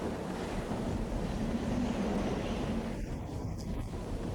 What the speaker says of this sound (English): It's fucking windy.